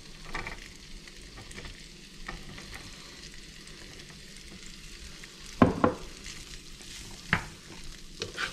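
Ingredients sautéing in a pan for pasta with beans, a soft continuous sizzle broken by a few sharp utensil clanks and scrapes as the mixture is stirred.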